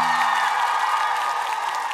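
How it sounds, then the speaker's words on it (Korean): Studio audience on a Korean TV variety show breaks into steady clapping, a dense even wash of applause with light cheering that fills the short moment at a close, loud level. "박수 한번 주세요"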